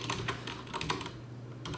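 Quick, soft clicks of typing on a computer keyboard, a run of light keystrokes at close range with no talk.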